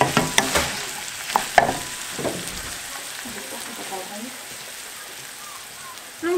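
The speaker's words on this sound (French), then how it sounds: "je vais laisser cuire un petit peu les légumes pour une dizaine de minutes avec la viande" Minced beef and frozen vegetables cook in a frying pan over medium-low heat, with a soft steady sizzle, a few sharp utensil clicks and scrapes near the start, and faint background sounds throughout.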